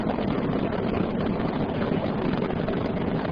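Space Shuttle Discovery's three liquid-fuel main engines roar during the STS-121 launch in 2006, a steady, dense, broadband rumble that holds unbroken throughout without voices.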